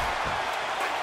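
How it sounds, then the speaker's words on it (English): A wrestling arena crowd cheers and applauds in a dense, steady roar of clapping and voices, loud and continuous. "Listen to this crowd."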